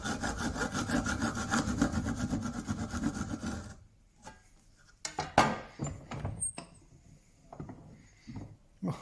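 A hand saw cutting wood while fitting a pin to a cabinet, steady rhythmic rasping strokes for several seconds up close, then stopping, followed by scattered knocks, scrapes and handling noises.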